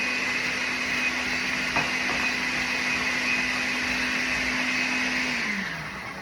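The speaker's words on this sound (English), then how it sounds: "I hope you can hear me over the blender." A blender whirs steadily at high speed, loud and close, then its motor pitch drops as it winds down at the end.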